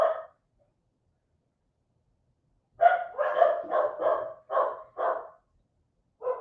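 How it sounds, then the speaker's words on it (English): A dog barks once on a TV broadcast, then after a pause lets out a rapid run of about six barks and one more, close and clear against silence. "the barking was coming through the TV"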